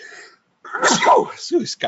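A single sharp human sneeze bursts out close to the microphone during an online discussion, followed by a brief breathy catch.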